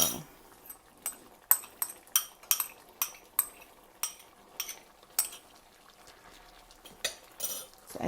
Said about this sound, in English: now I'm going to add the chopped ginger in it